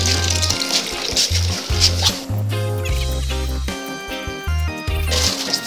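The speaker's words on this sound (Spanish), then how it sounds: "mientras el cubo se llena" Water runs from a water tank into a bucket in Ghana, a continuous splashing fill under a clattering rhythmic beat of music, with the flow staying steady throughout.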